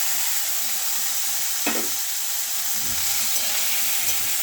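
Kochur loti, taro stolons, cooks with prawns in a pan with a constant sizzling hiss, while occasional scraping knocks of a spatula turning the mixture rise briefly above it.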